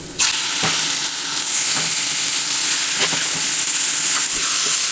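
Onions fry in a pan with a loud, steady sizzle and hiss, and cooked jackfruit pieces are tipped in with a few soft knocks and thumps.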